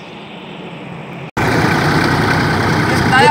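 A tractor engine idling outdoors in rural Sri Lanka, a steady low rumble that starts faint, cuts out briefly and returns much louder and close, continuing evenly to the end.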